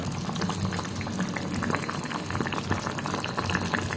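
Chicken curry simmers in a covered pot, a continuous bubbling boil with small pops and crackles, close and steady throughout with no talk.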